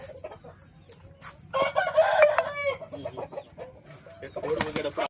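A fighting rooster crows loudly nearby, with clucking and other fowl calls around it and faint human voices in the background.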